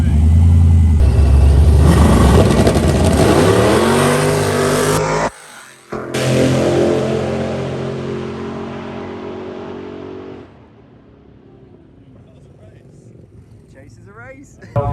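A tuned drag race car makes a pass, its engine roaring loud and close before a brief cut, then revving again and fading away into quiet, with a voice heard over it.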